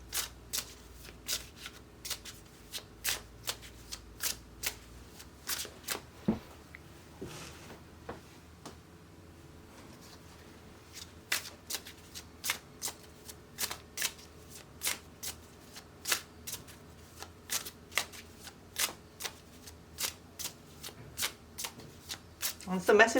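An oracle card deck is shuffled over and over, giving crisp, quiet riffling snaps and flutters in irregular bursts against a hushed indoor background.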